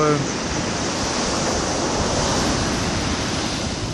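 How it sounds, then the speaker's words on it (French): Continuous roar of ocean surf breaking close by against a dune on Réunion's coast, a dense, steady rushing wash with wind mixed in. "où les vagues attaquent"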